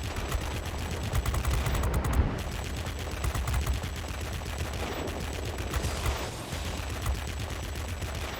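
Rapid, continuous machine-gun fire from an F7U Cutlass aircraft in the World of Warplanes video game, a dense, loud, unbroken rattle of bursts that runs the whole time with no pauses.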